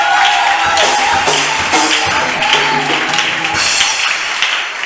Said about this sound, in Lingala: acclamons fort encore pour le Seigneur.